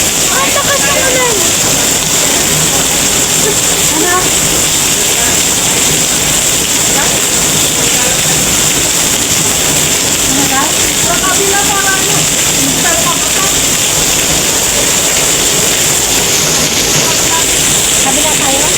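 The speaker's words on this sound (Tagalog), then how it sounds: "Ang lakas ng ulan" Heavy rain in Vigan, a loud dense steady hiss of downpour filling the whole stretch, with faint voices now and then underneath.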